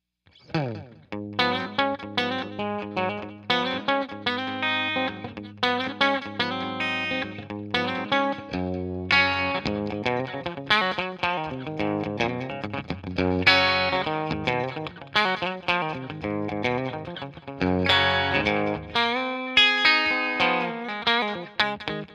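An acoustic guitar is strummed through a digital delay effect, ringing chords with echoing repeats and a chorus-like shimmer, played steadily and close with no talking.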